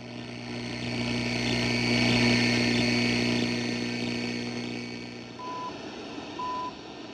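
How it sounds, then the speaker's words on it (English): A GPX model 992 boombox from 1984, tuned to its shortwave band, gives off a steady hiss and droning hum, with two short, clear beeps coming through near the end of the interval. "There's that beeping again."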